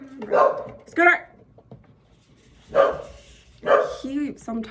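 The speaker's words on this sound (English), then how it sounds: "He sometimes won't stop barking for long periods of time, even though he doesn't know what he's barking at." A dog barks in short, loud bursts, about five sharp barks spaced unevenly with quiet gaps between them.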